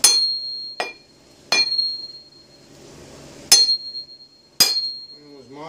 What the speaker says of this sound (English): The singing hammer.